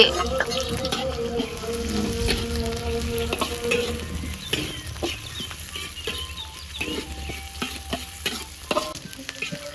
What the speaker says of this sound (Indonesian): Bumbunya digoreng dulu Lor